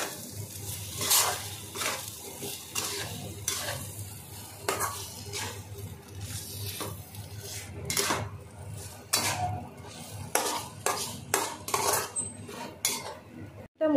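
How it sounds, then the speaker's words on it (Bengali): Chicken being mixed with spices in a pot: repeated metal spoon scrapes and clanks against the pot, with a faint sizzle underneath and irregular stirring rhythm throughout. "চিকেনটার মশলাটা এবার ভালো করে আমি মিশিয়ে নেব।"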